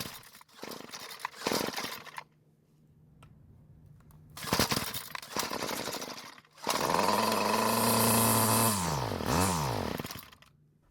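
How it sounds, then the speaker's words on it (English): A Bolens gas string trimmer being pull-started, with a few short bursts of sputtering before the small two-stroke engine catches and runs loudly, its pitch rising and falling as the throttle is worked. "So it started and ran about the same, and I think it needs more fuel."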